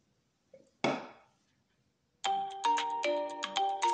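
A mobile phone rings nearby with a melodic electronic ringtone of repeated bright chime notes, following a short sharp clatter, with no talking.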